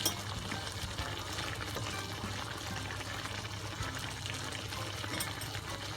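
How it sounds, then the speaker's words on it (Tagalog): Shrimp in oyster sauce simmers in a pan, giving a steady, close bubbling and sizzling hiss that holds evenly throughout, with no talking. "pakuluan nyo siya hanggang wala na siyang,"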